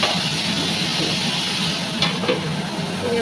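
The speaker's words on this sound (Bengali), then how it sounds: "পেঁয়াজের মধ্যে আলু ভেজে ফুলকপি ভাপানো ছিল ফুলকপি ভেজে নিচ্ছি" Steamed cauliflower, added to onions and fried potatoes, fries in a home kitchen pan with a steady moderate sizzle and a few stirring scrapes toward the end, no voices present.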